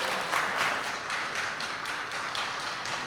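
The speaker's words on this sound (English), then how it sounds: "Sounds like she has a cheering squad in the back there." Applause at a city council meeting after a vote, brisk clapping from a small group with a few cheers, fairly close and steady for a few seconds.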